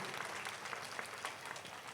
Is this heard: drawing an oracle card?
no